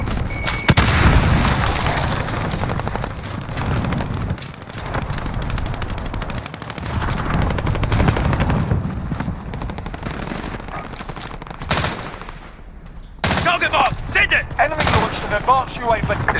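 Airstrike explosions and rattling gunfire in Call of Duty Warzone, booming impacts and bursts of automatic fire layered densely and loud, with game radio voices speaking over parts of it.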